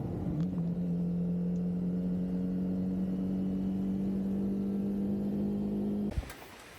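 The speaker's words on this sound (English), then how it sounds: "So I'll pull over here in just a moment and get off the bike" Triumph Scrambler 400X motorcycle slowing and pulling over, its engine holding a steady idle hum for several seconds before cutting off abruptly near the end.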